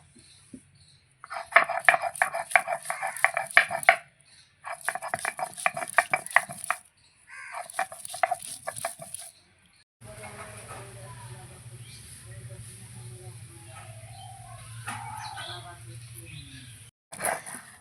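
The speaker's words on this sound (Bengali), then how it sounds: "তাহলে প্রথমে মটর ডালটা বেটে নেব।" Soaked yellow peas being ground into a paste, with repeated bursts of harsh, high-pitched whirring separated by short pauses, followed by someone talking over a low hum.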